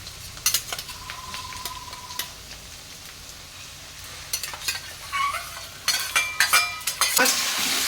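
Shrimp hit a hot pan and fry in garlic-chili paste for a jackfruit curry, a steady sizzle broken by scraping stirs and sharp clinks of a utensil against the pan, growing busier toward the end.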